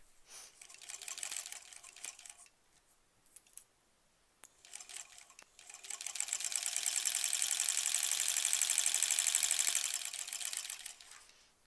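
A home sewing machine stitches a basic quilt block in two runs, a short burst at the start and a longer steady whir later, separated by a quiet pause with small clicks.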